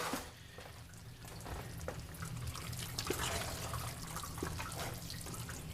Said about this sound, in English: And wash my hands